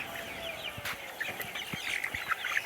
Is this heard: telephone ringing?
no